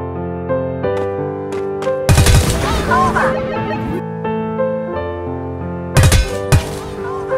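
Gunshots in the mobile battle royale game Knives Out fire in a couple of sharp, loud bursts over steady synthesized background music, with a few isolated clicks between them.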